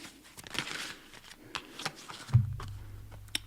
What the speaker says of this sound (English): We're going to shuffle these out.